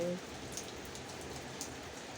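Soft, steady rainfall patters continuously under sunshine, a gentle hiss with faint scattered drops.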